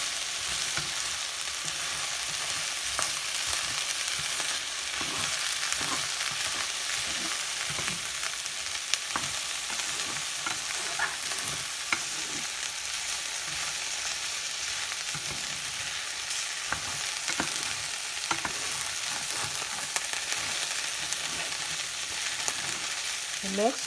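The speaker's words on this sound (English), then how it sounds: "Continue to stir this in." Smothered okra fries in a pot with a constant sizzle while a spoon stirs it, scraping and tapping now and then throughout.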